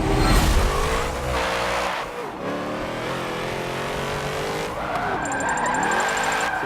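A 1994 Nissan Silvia K's drift build in Forza Motorsport 7 revs hard and loud, its engine pitch sweeping up and down while the tires squeal and skid through the corners.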